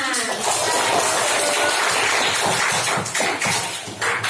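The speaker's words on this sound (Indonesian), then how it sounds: "Beri tepuk tangan untuk kelompok 5" Classroom applause for a student group in a fourth-grade Islamic primary school lesson in Kediri, Indonesia: a dense, steady burst of many hands clapping close by, sustained for several seconds before tapering slightly at the end.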